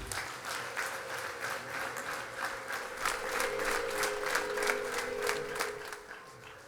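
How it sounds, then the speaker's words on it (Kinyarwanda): Faint crowd applause at a parish jubilee celebration, a steady wash of many hands clapping that swells mid-way and then tapers off, heard from a distance. "Mu ntiza amashyi menshi n'impundu tubashimire"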